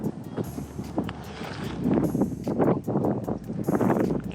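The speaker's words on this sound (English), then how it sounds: "it's a little bit too windy for that. The wind's just ripping right down the ditch here." Gusty wind ripping down a bayou ditch in Houston, buffeting the microphone in loud, uneven rushes, with faint rustling in the background.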